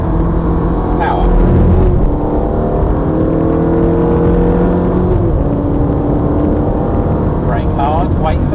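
Ferrari engine accelerating on a race track during a driving experience, a steady loud engine drone with shifting harmonic tones as it pulls through a left-hand corner, with an instructor talking over it.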